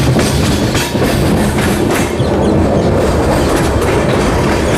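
The Amrit Bharat Express runs into a loop line at Dongargarh station. It makes a loud, continuous, close roar of wheels and rail clatter with no pauses.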